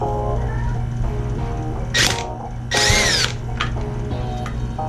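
Power tool removing 12 mm bolts from a Honda Prelude H-series intake manifold, with two short, loud whirring bursts over a steady background hum.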